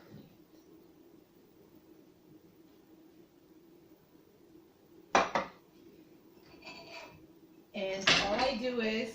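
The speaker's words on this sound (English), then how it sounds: "I put it in my frying pan. Frying pan is already hot with a little bit of oil." Food dropped into a hot frying pan with a little infused oil, a brief clatter and hiss followed later by louder sizzling and pan noise, close, over a low background hum.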